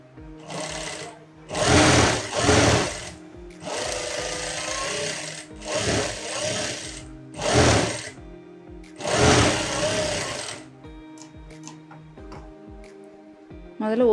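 A sewing machine stitches the sleeve hem of a girl's skirt-and-shirt outfit in a series of short, close, loud bursts separated by brief pauses, with faint handling noises in between.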